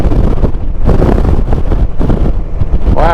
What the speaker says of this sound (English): Wow, it's windy out here today.